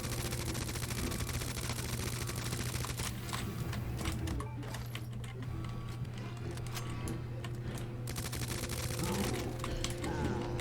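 SMG gunfire in Resident Evil 2 Remake, a rapid rattling stream of shots under a constant low game hum, continuing in bursts with dense clattering texture throughout.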